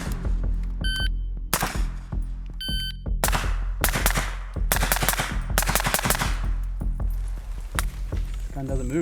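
Rapid gunshots from a LAW Tactical ARIC-equipped MCX rifle firing with a suppressor, a dense string of sharp close cracks with brief gaps, electronic beeps in places and voices between shots.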